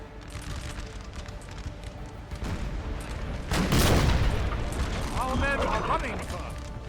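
Cannon and musket fire in Napoleon Total War against a Russian force, a heavy booming blast building into rolling fusillade and clattering mechanisms, under someone talking throughout.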